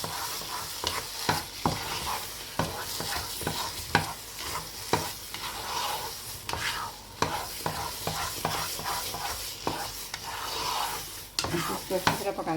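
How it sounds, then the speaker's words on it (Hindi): Carrot barfi mixture cooks with butter and cardamom in a pan, soft sizzling under constant scraping and stirring strokes, close and continuous without speech. "इसको अच्छी तरह पकाते रहें और लगातार अपने चमचा हिलाना है"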